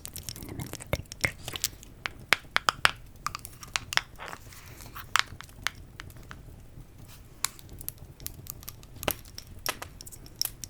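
Cinnamon sticks are handled up close, giving irregular dry crunching, snapping and crinkling taps, some sharp and some soft, scattered through a quiet background without speech.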